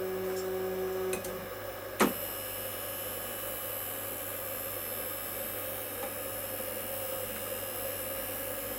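Ooznest OX CNC machine running on a Duet3D controller homes its axes, with a steady motor tone that stops after about a second, a sharp click, then only a quiet background hum.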